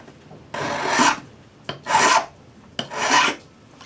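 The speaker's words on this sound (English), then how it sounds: "Flat file for the outside." A flat file rasps across the outside of a metal ring braced against a jeweler's bench pin, three long strokes spaced about a second apart, close and clear with no talking.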